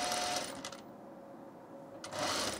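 Sewing machine stitching a blouse seam, a close, fast steady whir that pauses briefly in the middle and then resumes, with no voices.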